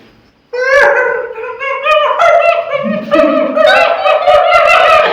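A voice imitates a puppy dog with a string of high, whiny whimpers and yelps, loud and close, rising and falling in pitch.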